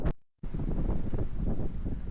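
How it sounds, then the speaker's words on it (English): Strong wind buffets the microphone with a constant low roar after a brief silence, loud and close, no talking. "I don't know if you can hear that, but it's windy as hell."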